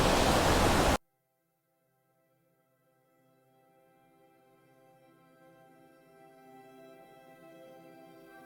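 A waterfall in Anglesey roars as a loud, steady rush for about a second, then cuts off abruptly. Soft music slowly swells in its place.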